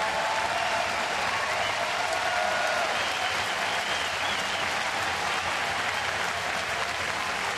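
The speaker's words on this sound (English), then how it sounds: "A very deserving round of applause right there." A crowd at a Colorado at Toronto baseball game gives dense, sustained applause for a pitching change in the seventh inning, as the pitcher leaves with two outs, a steady roar of clapping that never lets up.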